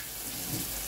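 Tap water runs steadily over fresh homegrown chives being washed at a sink, a continuous close rush of water lasting about a second with no voices.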